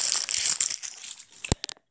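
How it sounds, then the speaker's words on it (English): Brief crinkling and crackling of a wrapper being crushed, busy at first, then thinning into a few sharp crackles before stopping. "it kind of sounds like crumbling up a wrapper"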